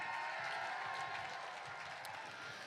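A crowd applauding at an outdoor rally in Cal Anderson Park, Seattle, dense steady clapping heard from a distance, sustained and even throughout with no talking.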